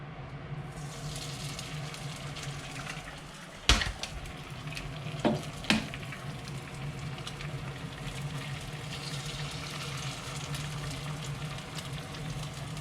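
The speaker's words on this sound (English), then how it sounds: "now we will make our fried eggs right into the pan" Eggs fry in a pan at medium heat with a steady, close sizzle, broken by a few sharp clinks or taps partway through, no talking.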